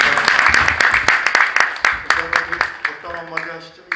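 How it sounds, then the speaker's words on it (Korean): Congregation applause at a church New Year greeting service in Anseong, a dense run of clapping filling the hall with sharp claps standing out, music and voices underneath. "네, 박수로 우리 다시"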